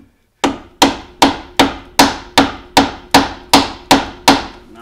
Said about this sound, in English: Mallet time.